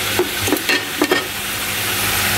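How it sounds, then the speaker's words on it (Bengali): Pumpkin bori lentil dumplings fry in a pan with a loud steady sizzle, broken early by a few quick stirring scrapes before settling into an even hiss. "কুমড়া বড়িটাকে দিয়ে ভেজে নিতে হয় সুন্দর করে"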